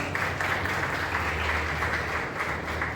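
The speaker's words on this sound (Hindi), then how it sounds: "आइए परमेश्वर के लिए जोरदार तालियां बजाएं।" Soft, steady clapping from a church congregation during a Sunday sermon, a continuous wash of applause heard from a distance beneath a low hum.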